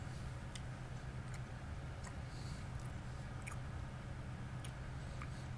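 Soft, close chewing of an Oh Henry! candy bar with fudge, quiet wet mastication with faint clicks over low background hum, no talk.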